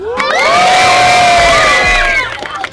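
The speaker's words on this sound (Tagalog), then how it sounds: "mag-ingay para kay Sibil." A crowd at a street rap battle cheers and shouts loudly for contestant Sibil, a sustained roar of voices with high whoops running nearly three seconds before fading.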